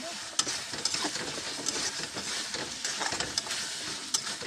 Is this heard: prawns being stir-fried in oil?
yes